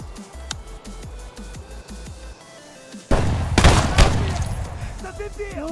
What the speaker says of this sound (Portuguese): O cara me deu um tiro de shotgun por dentro da pedra